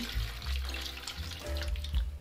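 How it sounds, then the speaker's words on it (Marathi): Water splashes and gurgles steadily as it is poured into a pressure cooker holding potatoes, close and continuous for a couple of seconds. "2 ग्लास पाणी ओतायचे"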